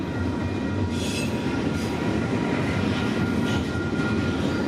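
A freight train rolls past at a crew change point during a train meet, its heavy rumble steady and loud while high wheel squeals rise over it.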